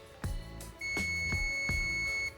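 A multimeter on continuity range emits a steady high electronic beep that holds for over a second, with sharp probe clicks tapping around it while an Apex B500 power amplifier board is checked for shorted transistors.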